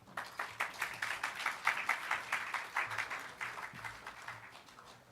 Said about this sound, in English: Let us give a warm of applause to Dr.